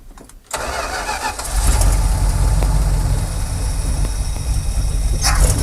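An abandoned Dodge Power Wagon service truck cranks briefly after a moment of quiet, then catches and roars into a loud, rough, rumbling run that holds steady close by, with a surge near the end.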